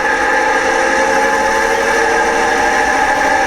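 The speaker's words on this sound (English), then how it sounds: "The revs are going up, that sounds pretty good, and she's moving off." A model Deltic diesel locomotive's engine runs with a loud, steady, buzzing drone as the revs rise and it moves off, heard alone with no talking.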